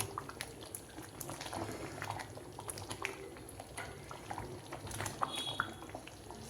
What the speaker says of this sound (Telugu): ఇప్పుడు పన్నీర్ వేసుకున్నాం కాబట్టి ఒక 5 నిమిషాలు ఉడికించుకుందాం